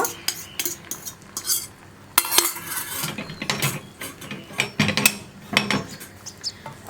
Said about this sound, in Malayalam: ഇതൊന്ന് പതുക്കെ ഇളക്കി കുറച്ച് വലിയ പീസുകളാക്കി എടുക്കുക.